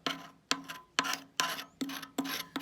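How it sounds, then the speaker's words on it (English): Old paint being scraped off a K6 red telephone box, six or seven harsh rasping strokes in a steady rhythm, each a loud scrape close by with short pauses between. "It scrapes off."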